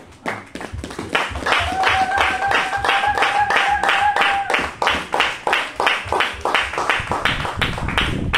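A church congregation breaks into rhythmic applause after the reading of the word of the Lord, steady loud clapping in unison with a sustained tone and voices underneath, fading into separate claps toward the end.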